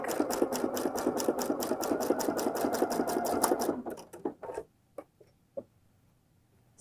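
A sewing machine stitches fold-over elastic binding onto a fabric edge, a quick run of evenly spaced mechanical clicks that halts, followed by a few sparse taps and handling sounds.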